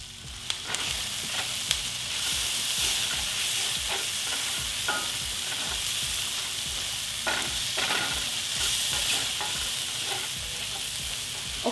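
Mushrooms sautéing in a single pot with fresh thyme, a continuous hissing sizzle with occasional stirring scrapes and light taps, moderately loud with nobody speaking.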